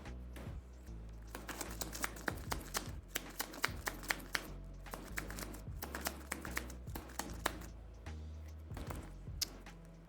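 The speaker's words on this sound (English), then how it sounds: "So we're going to draw 5 cards." Cards drawn one at a time from a deck during a small-box dungeon card game, a series of crisp, close slaps and rustles at an uneven pace, with faint background hum and no talking.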